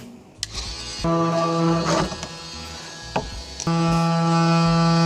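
A DeWalt oscillating multi-tool cuts through the plastic air dam of an F150, giving a loud, steady buzzing whine in long sustained bursts with a short pause midway and a few clicks and knocks.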